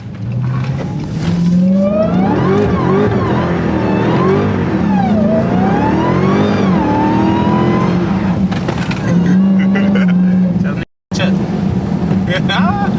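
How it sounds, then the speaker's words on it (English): A Dodge Hellcat accelerating hard on a wet road, its engine note rising and falling through long revving sweeps as the car slides, loud and close, with voices talking over it. "But y'all know that the Hellcat get cracking, man."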